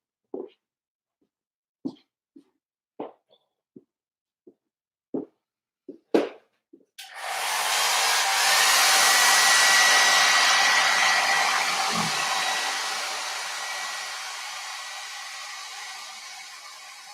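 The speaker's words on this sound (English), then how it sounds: "I have my handy dandy hair dryer. I'm going to dry it real quick." A handheld hair dryer switches on after a few scattered taps and clicks, then blows a loud, steady rushing whoosh over a freshly painted canvas, gradually easing slightly as it runs.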